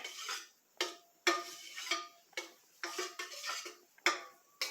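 A spoon stirs homemade yogurt made from vitamin D milk with added vanilla, clinking and scraping against the container in quick, regular strokes, close and fairly loud.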